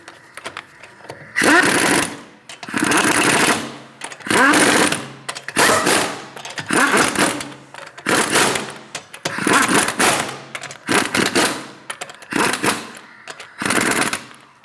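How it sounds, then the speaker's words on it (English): An impact wrench snugs the lug nuts on a Chevrolet Malibu wheel in a series of loud, rapid rattling bursts, each lasting about a second, separated by brief pauses. "Snug the lug nuts down."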